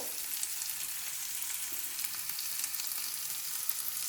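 Cashews and roasted gram sizzle steadily in hot oil in a pan, a close, even crackling hiss with no talking.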